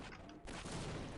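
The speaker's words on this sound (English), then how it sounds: "Throwing grenades!" Grenade blasts and gunfire in the game Half-Life, a loud, dense burst of explosive noise that cuts out briefly and then surges back even stronger, with no voices over it.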